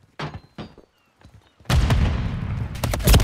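Video game firefight: a few sharp gunshots crack in short bursts, then a loud grenade blast erupts into a sustained booming rumble with further heavy hits near the end.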